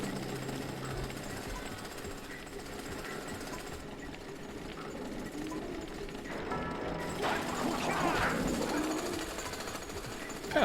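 A grinder enemy machine in the Jak & Daxter video game churns with a continuous rattling mechanical buzz, steady and fairly loud, swelling slightly toward the end.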